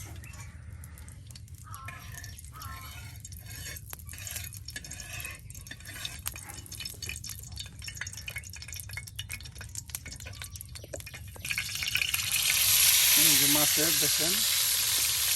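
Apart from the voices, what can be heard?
fish pieces frying in oil on a pan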